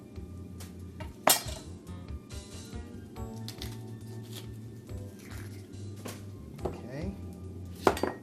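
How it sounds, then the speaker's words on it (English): Knife chopping a medium-sized onion on a cutting board, with sharp irregular taps and a couple of louder knocks close by, plus light clinks of utensils; a voice speaks briefly. "So, while we're cutting this onion"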